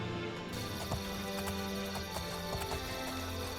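Steady clip-clop of horse hooves at a walking pace, faint against a constant background hum.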